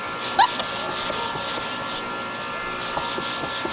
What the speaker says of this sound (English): Listen to the difference if you can. It sounds like sandpaper.